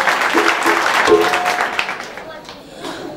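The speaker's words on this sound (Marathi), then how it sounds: "त्याबद्दल त्या सर्वांसाठी एका जोरदार टाळ्या होऊन जाऊ द्या" Loud, dense applause from a crowd at a stage event, clapping for the hosts of a devotional bhajan group, sustained for a few seconds before thinning out, with voices mixed in.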